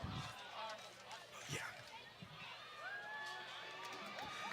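Crowd at a Thursday night high school football game, Moon Valley at Thunderbird, roars and cheers as a steady wash of noise under an announcer's continuous talk.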